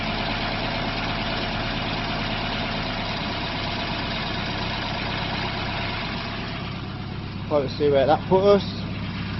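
A Pinto engine in a kit car, fitted with a Weber 32/36 DGAV carburettor, idles fast at about 1050 RPM with 24 degrees of advance, giving a steady, even drone close by. Someone speaks briefly near the end.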